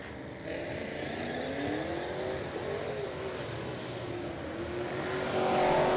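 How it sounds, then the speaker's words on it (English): A boosted pickup truck launches at a street-style drag racing event in Brown County, its engine roaring loud and close with a steadily climbing pitch and swelling even louder toward the end. "This should be a spicy one, the pickup truck. Definitely pumping a bunch of boost"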